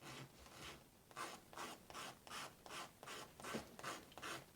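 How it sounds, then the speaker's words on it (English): Watercolor paper having its surface scratched in repeated strokes, a steady rhythm of about ten rasping scrapes, close and fairly quiet. "you can hear those lovely scratch marks"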